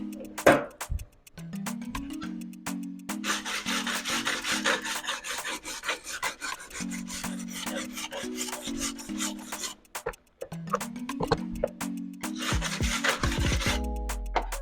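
Steady metal scraping and rasping as a gasless MIG weld bead is cleaned up, continuous rubbing strokes close by with brief pauses and no talking.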